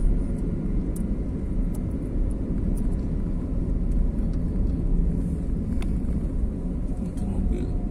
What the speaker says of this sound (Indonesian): Itu mobil.